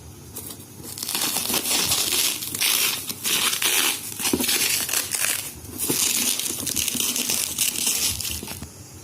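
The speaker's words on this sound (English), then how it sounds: "So let us unbox it." Loud, continuous crinkling and crushing of plastic packaging of a gaming keyboard and mouse combo being handled and torn open close up, in irregular bursts with brief pauses.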